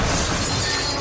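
A burst of glass shattering as a window is smashed during a break-in, loud and close, a dense crash of breaking glass filling the whole moment.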